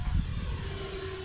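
A Freewing Banshee RC jet plane passes in flight, its ducted-fan engine giving a thin, steady high whine over a low rumble of wind for just over a second.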